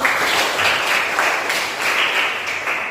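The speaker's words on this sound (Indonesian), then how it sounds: "tepuk tangan untuk kelompok 5" A classroom group applauds group 5 after its discussion presentation, with loud, continuous clapping throughout the short stretch.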